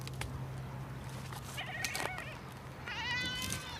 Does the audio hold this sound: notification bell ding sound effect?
no